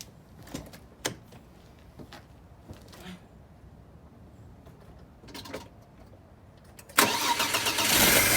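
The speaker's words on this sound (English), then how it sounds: "We're gonna start it, let it run for a little bit" A 1995 Audi A6 sits quiet with a few clicks and knocks before the engine cranks and fires near the end, then settles into a loud, close, steady running rumble.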